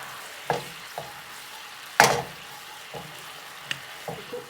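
Thick tamarind sauce simmering and being stirred in a pan for Thai-style fried fish, giving a soft steady sizzle broken by several sharp spoon scrapes and clatters, one loud clank near the middle.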